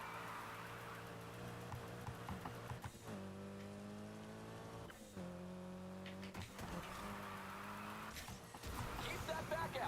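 Car engine in a Need for Speed racing game roars steadily as it weaves through traffic, with engine pitch rising and dropping across gear shifts and brief screeching moments, while someone shouts over it throughout.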